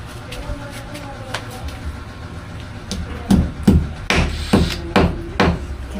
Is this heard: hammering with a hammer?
yes